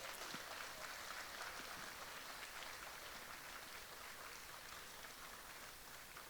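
A ceremony audience celebrating 50 years of Bangladesh independence claps while guests receive crests on stage, a steady, even wash of distant applause without breaks.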